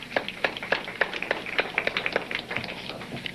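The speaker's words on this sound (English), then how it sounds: "A round of applause." Audience members at a lecture on the Philadelphia Experiment give a short round of applause, sparse individual claps at a quick, uneven rhythm, fairly close and moderate in loudness, thinning out toward the end.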